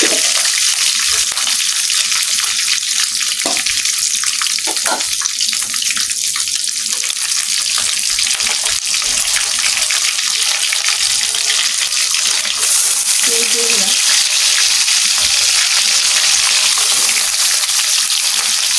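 Chicken roast pieces crisping in plenty of hot oil give a steady, close hiss and crackle that runs the whole time, with a few brief clinks and scrapes and no talk.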